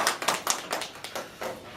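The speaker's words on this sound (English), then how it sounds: "Big round of applause" A small audience at a training-program testimonial session gives a brief round of applause, a scattering of close, uneven hand claps that fades quickly.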